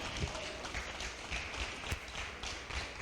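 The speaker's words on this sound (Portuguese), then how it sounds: "dar um forte aplauso à palavra de Deus" A church congregation applauds during a service, a rather quiet, uneven patter of clapping with a few louder thuds, heard from a middle distance.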